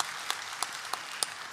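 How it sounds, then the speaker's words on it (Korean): A few faint, evenly spaced hand claps at a church worship service, sounding distant and sparse rather than a full crowd. "먼저 하나님께 영광의 박수를 올려드리겠습니다."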